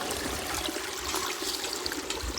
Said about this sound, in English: Walking up to the spring to get some water for coffee.